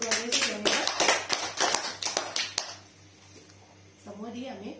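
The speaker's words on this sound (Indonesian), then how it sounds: "Tepuk tangan dulu per Tuhan Yesus yang hebat." A church congregation bursts into loud, rhythmic clapping for about two and a half seconds, then it stops and a voice starts speaking.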